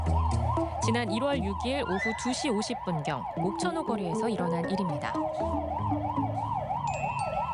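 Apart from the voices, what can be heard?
ambulance siren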